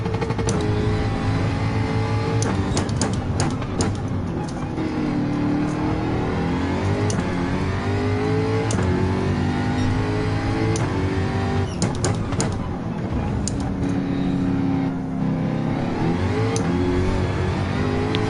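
A Jaguar Group 3 race car in Gran Turismo 7 revs and accelerates steadily, its engine droning loud and continuous with rising and falling pitch through gear changes over a long stretch.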